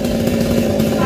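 A Bosco 6900 chainsaw runs steadily at close range for sawing a large tree branch, a loud continuous engine drone with no pause.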